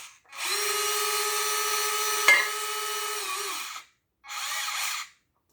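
A Huina 583 toy RC loader's servo whines steadily for about three seconds while lifting the arm, with a brief click partway through, then buzzes again in a second short burst, loud and close with no talking.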